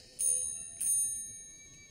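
A small hand bell rings twice in quick succession, each stroke a thin, high metallic ting that fades quickly against the quiet, faint background of an otherwise still room.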